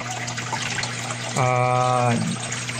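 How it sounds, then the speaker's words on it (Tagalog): Water from a DIY aquarium filter runs as a steady close trickle and splash, with a brief humming tone rising over it midway before the flow continues alone. "So lalabas yung tubig dyan na pristine at crystal clear at hindi na siya toxic na tubig"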